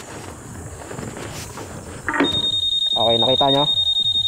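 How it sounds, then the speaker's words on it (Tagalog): A 2020 Honda Airblade 150 scooter's anti-theft alarm switches on partway through: a loud, steady high-pitched tone joined by rapid rhythmic warbling chirps, close by, with someone speaking briefly just before it starts. "ito naman is for alarm."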